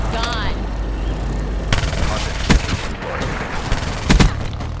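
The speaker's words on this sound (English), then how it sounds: "I would definitely hip fire less with the Vesper." Vesper submachine gun hip-fired in a shooter video game, sounding as loud rapid bursts of automatic fire with sharp impacts over a dense, continuous background of game noise and rumble.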